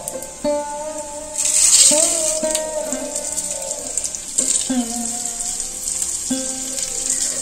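Gobindobhog rice being fried in a wok over low heat for pulao, a soft, steady sizzle with faint stirring scrapes and occasional clinks, close and alone with no talk.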